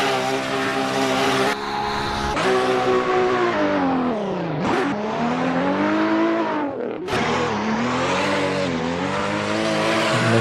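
A drift car in a racing simulator brakes hard and slides through a competition run, its engine droning loudly and sweeping down and back up in pitch as the tires squeal, with a brief shift in tone midway.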